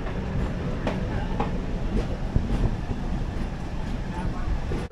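A 07525 DMU local passenger train stands at Gulma halt in the Dooars hills, its diesel engine giving a steady, loud rumble and hum that runs without a break, with faint thumps and clanks over it.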